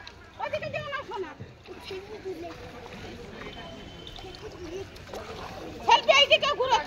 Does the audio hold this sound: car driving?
no